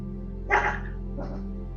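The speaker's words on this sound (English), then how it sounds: "He hasn't stopped barking though." A dog barks twice in quick succession at close range, a loud first burst followed by a weaker second one, over a steady low hum indoors.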